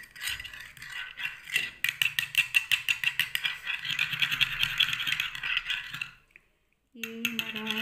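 Homemade anti-aging face cream is mixed in a small container, giving a fast run of light metallic clicking and rattling strokes that speeds up then settles into a steady patter, close but soft, with no talking.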